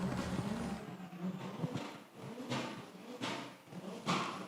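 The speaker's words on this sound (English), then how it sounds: "car number 95 in front of the grandstand, making some noise for us" Drift car number 95 makes noise in front of the grandstand at a drift series final round: broadband engine roar that swells in repeated surges over crowd and ambient rumble, fairly distant.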